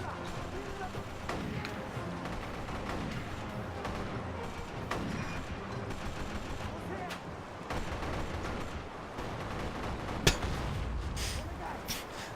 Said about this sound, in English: What are these explosions?